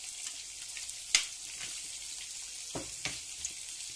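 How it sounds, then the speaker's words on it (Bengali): Magur catfish frying in soybean oil, a steady hiss of sizzling with a few sharper pops and crackles near at hand, no talk. "মাছগুলো ভাজা হচ্ছে। এক পাশে মাছ ভাজতেছি"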